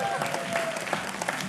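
A studio audience claps warmly to welcome a guest on a cricket talk show, a steady wash of applause that holds for the whole moment, with a voice and faint tone underneath.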